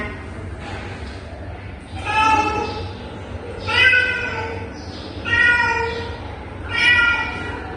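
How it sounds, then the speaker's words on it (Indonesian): A cat meows four times at an even pace, each call a clear drawn-out mew, close up over a low background hum. "bagaimana suara kucing?"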